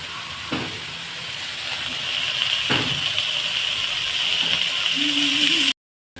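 Red amaranth greens fry in a pan, giving a steady close hiss and sizzle, a few soft clicks, and a brief hum just before it cuts to silence.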